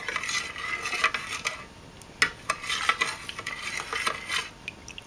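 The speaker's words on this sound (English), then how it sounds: "And you just put in, mix everything together." Spoon stirring a watery homemade mix of lemon juice and cayenne pepper in a bowl, close quick clinks and scrapes repeating irregularly throughout.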